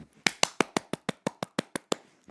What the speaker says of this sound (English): I'm just applauding.